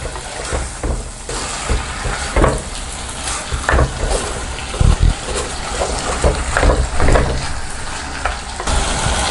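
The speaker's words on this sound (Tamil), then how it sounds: "மட்டன் வெந்ததுக்கப்புறம் நம்ம அரைச்சி வச்சதை ஊற்றிக்கலாம்." Ground paste is poured into mutton curry cooking in a clay pot, a loud bubbling and sizzling with wet sloshing and stirring bursts over a steady frying hiss, close up and without talk.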